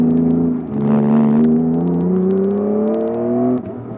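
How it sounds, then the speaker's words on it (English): A car engine's steady, rising drone as it pulls out of corners at low revs, loud and close, with a few sharp clicks over it before the pitch drops away. "the way the engine pulls you out of corners"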